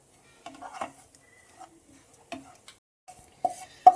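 Desiccated coconut is roasted in a pan on residual heat with the gas off. Sparse, soft scrapes and clinks of stirring come close up, and the final two strokes are sharper and louder.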